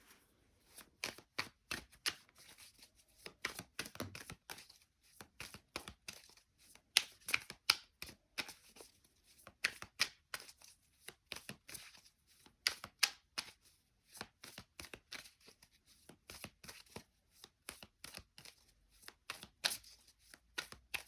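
Tarot cards are shuffled and handled in a long series of crisp, quick riffling flutters and taps, close up and fairly quiet, coming in irregular bursts with short pauses.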